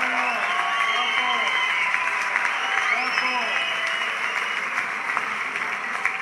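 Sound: audience applause for next solidarity ambassador

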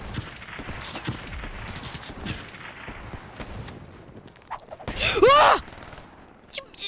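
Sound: assault rifle gunfire in Call of Duty Black Ops 3 video game

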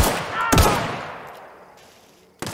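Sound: gunfire shooting an enemy in video game The Outer Worlds

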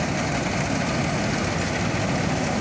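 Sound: Niva combine harvester engine running while harvesting lodged wheat

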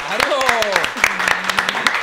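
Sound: applause

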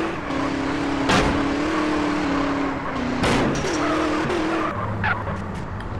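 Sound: car driving and skidding in video game GTA San Andreas

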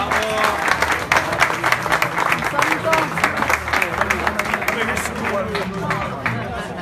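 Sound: applause

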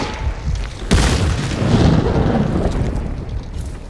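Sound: barrel shot and exploding in video game Hunt: Showdown

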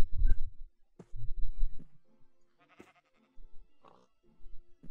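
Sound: sheep bleating in Minecraft video game

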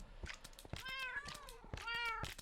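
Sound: cat meowing in the video game Minecraft

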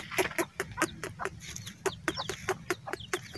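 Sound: small hen clucking

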